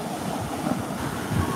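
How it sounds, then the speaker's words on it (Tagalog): Steady rushing wash of sea waves breaking on a shore in Camarines Sur, Philippines, as a typhoon calms, a continuous roar with gentle swells, fairly close and no voices. "Medyo kumakalma na po ang dagat."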